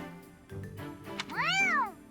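A cat in Fire Emblem: Three Houses lets out a single clear, drawn-out meow, close and moderately loud, following some soft rustling.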